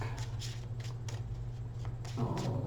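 Tarot cards are shuffled from a split deck in a quiet room, giving a soft, steady riffling rustle with a few brisker bursts near the end over a low background hum.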